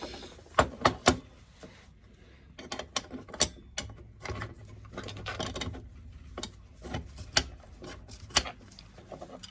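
An old mortise lock with its bolt sliding back and forth inside the lock body after paint was cleared, giving a run of close, sharp metallic clicks and scraping clunks in irregular bursts, alone.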